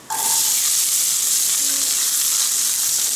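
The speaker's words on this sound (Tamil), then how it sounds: "இது நல்லா வணங்கினோடனே நம்ம ஒரு 1/2 வெங்காயம் சேர்த்திக்கலாம்." Half an onion sizzles steadily in a hot pan with oil for a bread dosa dish, a constant loud frying hiss that starts abruptly and carries on without talk.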